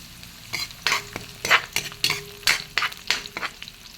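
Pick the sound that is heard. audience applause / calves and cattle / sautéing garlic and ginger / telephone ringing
sautéing garlic and ginger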